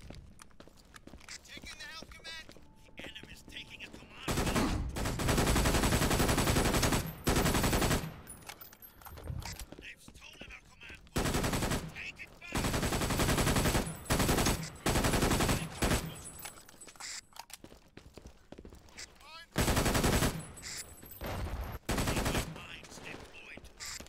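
A mounted machine gun nest firing in the shooter game Brink, loud sustained bursts of automatic gunfire in repeated long volleys with short gaps, close and dominant, with someone talking over parts of it.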